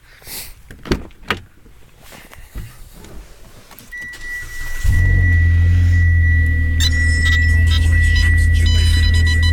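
Clicks and door thuds, then a Mitsubishi Outlander engine cranks and starts, settling into a loud steady idle with a high whine alongside.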